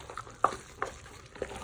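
Kerala padukoottan curry being stirred in a pot, with a few soft scraping strokes against a faint, low sizzle, the spaced stirs fairly quiet and close.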